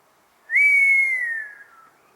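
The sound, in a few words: person whistling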